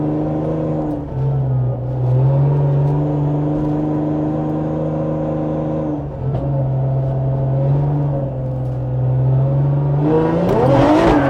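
A car circles slowly during a drift lesson, its engine droning steadily close by, with rises and dips in revs and a sharper burst of throttle near the end.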